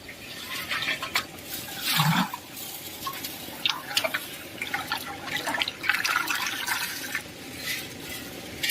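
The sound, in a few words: water released into fish hatchery tank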